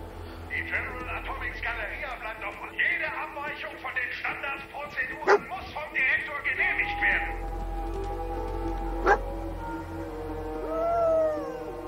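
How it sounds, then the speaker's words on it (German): A dog in Fallout 4 yips and barks in short bursts, mixed with whimpering, against a low game hum, with several quick sharp cries clustered early and a couple of isolated yelps later. "Ich glaube, der Hund wird auch langsam irre."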